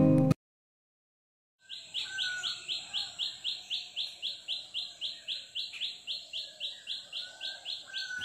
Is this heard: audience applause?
no